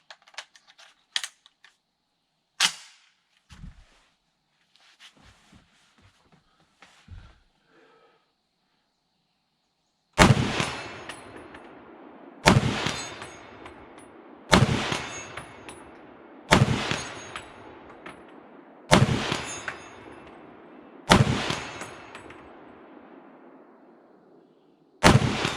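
M1 Garand rifle fired at a 100-yard range outdoors, seven loud, sharp shots spaced about two seconds apart, each with a booming decay, after a stretch of faint clicks and handling noises.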